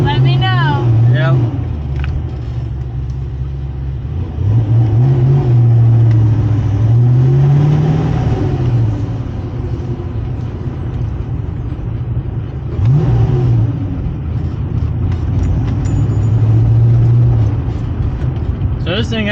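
An old Fox Body Ford Mustang that has sat unused with bad fuel runs and accelerates nearby, its engine note rising and falling in several pulls while people talk over it.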